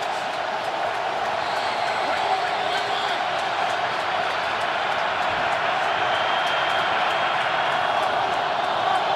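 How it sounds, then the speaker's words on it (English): A large stadium crowd at an NFL football game between the Buccaneers and Ravens in Baltimore roars in a steady, sustained wall of cheering that stays loud and dense throughout, with no break. "Crowd is alive."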